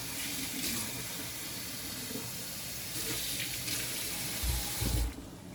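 Water runs steadily from a kitchen tap into a cooking pot, a continuous close hiss and splash that deepens slightly near the end before stopping.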